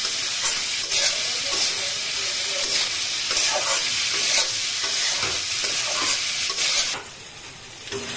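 Teasel gourd seasoned with red chilli powder and salt fries in a pan while it is stirred, making a constant loud sizzle with repeated scraping strokes, and the hiss turns sharper and brighter near the end.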